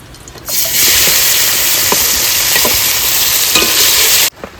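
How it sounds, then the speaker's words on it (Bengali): Baan eel fish frying in oil, a loud, dense sizzle that starts abruptly, holds steady with occasional pops and crackles, then cuts off suddenly. "এই তেলে একটু তেল দিয়ে বান মাছগুলো ভেজে নেব"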